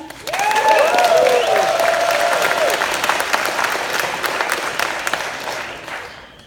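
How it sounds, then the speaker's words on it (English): An audience at a tech entrepreneurship conference breaks into loud applause, a broad sustained roar of clapping with some whoops and cheers early on, slowly fading toward the end. "Can we have a round of applause for them?"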